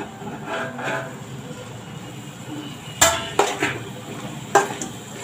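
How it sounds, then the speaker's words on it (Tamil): Metal pan lid and spoon clatter as bottle gourd poriyal is stirred in a pan, a few sharp clinks over a soft kitchen background with no talk. "நம்ம மூடி ஓப்பன் பண்ணிக்கலாம்."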